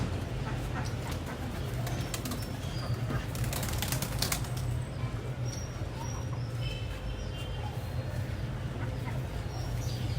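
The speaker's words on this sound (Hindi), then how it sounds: "हम अपने कबूतर खोलते हैं ताकि हमारे कबूतर के साथ आ जाए।" Pigeons flap their wings in flight over a rooftop loft, with bursts of wing clatter and soft cooing against constant low outdoor hum.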